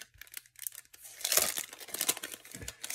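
Plastic packaging around a set of journal cards being opened, soft crinkling and tearing rustles close by, quiet at first then busier and scratchier over a few seconds.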